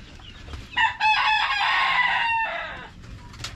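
A rooster crows loudly and close by in a coop of brown breeder chickens, one long drawn-out crow with softer clucking and farmyard noise around it.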